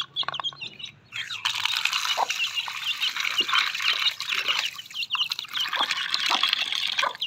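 Fresh water runs into a container being filled for pet finches, a steady liquid trickle under loud, continuous bird chirping and tweeting nearby, with a dog briefly audible.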